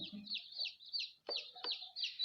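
Egg-laying hens kept indoors in a room cluck in quick, close, overlapping bursts, with a couple of sharp louder squawks near the middle.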